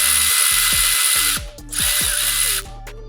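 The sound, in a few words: removing a bracket from a Lexus GX460 suspension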